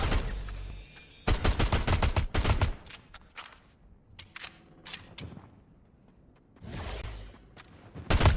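Bursts of rapid gunfire in a video game crackle in several volleys with quiet gaps between them, sharp and fairly close.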